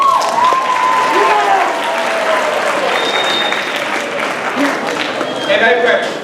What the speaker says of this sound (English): Let's give it up for Ms. Garcia.